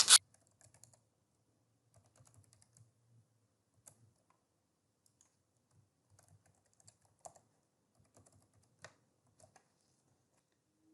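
A password is typed on a computer keyboard as soft, sparse key clicks scattered in short irregular runs with long quiet gaps, close but faint.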